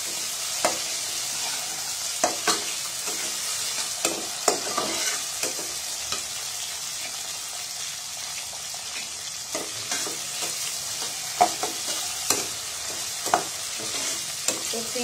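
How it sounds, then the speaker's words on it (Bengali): Sliced onions fry in a pan with a steady bright sizzle, punctuated by sharp scraping clicks of a spatula stirring at irregular intervals, no voices. "আলুটাও ভাজা হয়ে যাবে, পেঁয়াজটাও ভাজা হয়েছে।"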